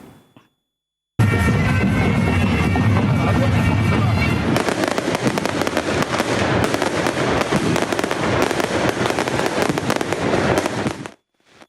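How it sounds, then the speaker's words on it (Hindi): Fireworks burst during a wedding procession send out loud, dense crackling and popping that runs continuously for about ten seconds after a short silence, with no clear speech over it. "बारात की रवानगी के वक्त आतिशबाजी का शानदार मुजाहिरा किया गया।"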